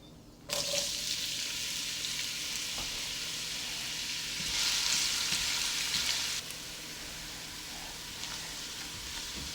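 Chopped onions hit hot oil already spiced with cinnamon and cardamom, bursting into a loud, dense sizzle that swells and then settles into a steady crackling hiss, close and with no talking.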